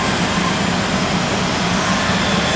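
The spindle of a Kiwa KH-4500 horizontal machining center spins up with a loud, dense, steady whir and high whine that fill the short stretch without pause.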